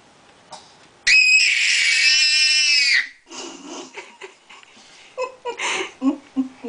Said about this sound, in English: Are you screaming at yourself in the mirror?